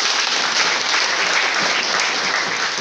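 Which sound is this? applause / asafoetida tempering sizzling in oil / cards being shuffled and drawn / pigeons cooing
applause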